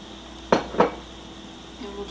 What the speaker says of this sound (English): We'll just stir this all up and heat it till it's heated through